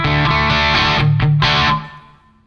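Electric guitar played through a KOR Oracle overdrive/distortion pedal: a few loud, sustained, heavily distorted notes ring out, briefly break, then swell again before decaying away.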